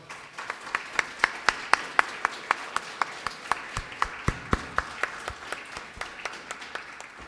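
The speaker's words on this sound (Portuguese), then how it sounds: "Vamos dar uma salva de palmas ao Pai Celestial?" Worshippers at a church service give a round of applause, a modest group clapping in loose rhythm, individual claps distinct and fairly near, fading slightly over several seconds.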